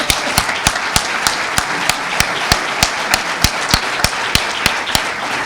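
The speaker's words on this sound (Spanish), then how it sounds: "Te voy a dar un aplauso." Applause at a union summit for decent rail service in Extremadura: dense, steady clapping from a crowd, with sharp regular hand claps standing out near the front, continuous for several seconds without speech.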